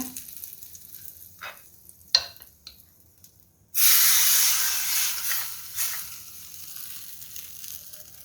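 Hot tempering of oil, mustard seeds and curry leaves poured into moong dal idli batter gives a sudden loud hiss and sizzle that fades slowly, after a few faint clinks and taps.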